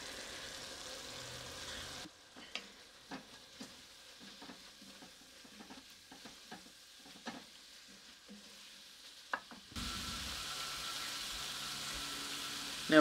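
A flour roux cooking in bacon fat and olive oil, a soft steady sizzle with scattered scraping stir strokes. It sits close and quiet between louder stretches of kitchen background noise at the start and end.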